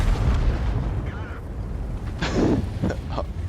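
A tank's ammo rack detonates in the video game World of Tanks: a muffled, booming burst rises over a constant low battle rumble, followed by a couple of short, sharper pops.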